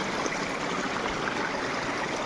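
River water flows steadily in a broad, even rush, heard up close and unbroken for a couple of seconds, with no voices.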